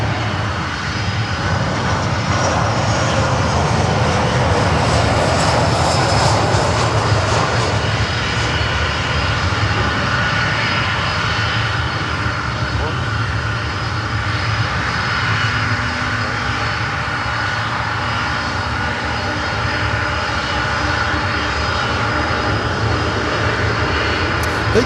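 An American Airlines jet arrives at Miami, its engines producing a steady, loud, broadband roar that persists throughout with no pauses.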